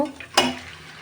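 Beef pieces dropped into a pan of fried spice masala for a Bengali beef curry, giving one sudden loud sizzle that fades into a steady, softer frying hiss, with no talking.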